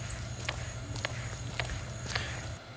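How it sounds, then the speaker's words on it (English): A running shoe making a faulty clicking, squeaking, creaking noise on each stride during a run, a regular rhythm of sharp ticks about every half second over a steady low background hum. "that little clicking, squeaking, creaking noise definitely didn't sound right."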